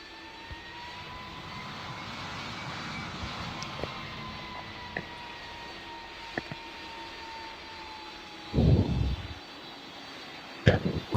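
Airliner engines spooling on the runway in the Roblox flight simulator PTFS, a faint steady whine with slowly rising tones, broken by a couple of short louder bumps near the end.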